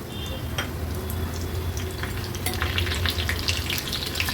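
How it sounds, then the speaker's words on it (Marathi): Steady hot-oil sizzle with crackling pops as curry leaves hit the pan for tempering after mustard and cumin seeds, continuous and fairly loud throughout, no voices. "राई जिरं थोडं तडतडलं का कढीपत्त्याची पानं घालूया फोडणीला आपण"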